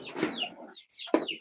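Chickens tended by an elderly woman give two short clucks close by, separated by a brief pause, with no one speaking.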